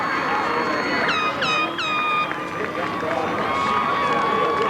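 Leominster high school football crowd cheering a touchdown, a broad continuous roar of the stands with whistles rising over it and a commentator talking throughout.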